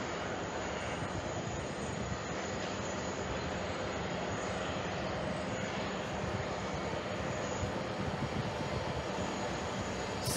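Loud, steady roar of jet airliners on parallel arrivals at JFK Airport, a continuous broadband engine drone filling the whole stretch without a break.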